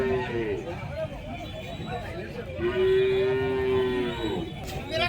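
Gir cows moo at a busy cattle market in Chalisgaon, with two drawn-out lowing calls close by, the second long and strong, while people talk throughout.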